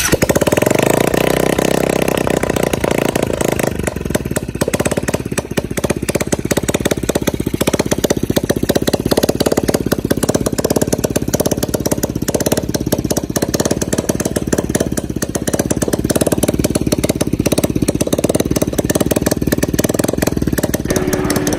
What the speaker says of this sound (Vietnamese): này test thử máy Luoyi 125cc cho tất cả mọi người xem nhé